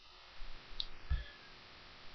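A single soft computer mouse click, faint and close, against a quiet room hum with no talking.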